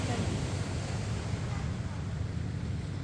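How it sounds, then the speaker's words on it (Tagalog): Sea waves wash steadily onto Liw-Liwa beach in Zambales, a continuous broad rushing surf roar mixed with wind buffeting the microphone, with no distinct breaks. "Ayan yung dagat"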